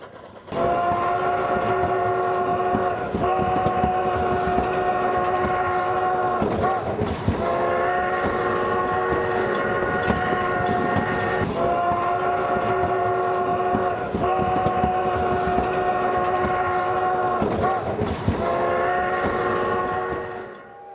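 The Durango & Silverton narrow gauge steam train runs on its rails with a steady loud rumble and clatter, while a sustained whistle sounds in several long blasts over it throughout.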